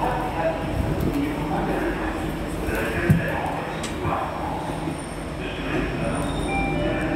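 A Jakarta MRT train carries passengers, its even rolling hum and faint wheel noise running under nearby conversation throughout, with a brief knock partway through.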